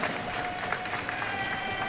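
Hockey crowd at the Jones Center home rink applauding players for their final home game, a steady wash of clapping and cheering that stays even throughout.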